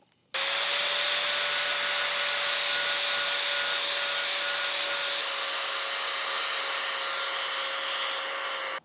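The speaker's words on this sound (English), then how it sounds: "All right, we get that blade sharpened up." A Toro Recycler lawn mower blade being sharpened on a powered grinder, a continuous harsh grinding whine with a steady tone that starts abruptly and runs without a break for several seconds, close and loud, no voices.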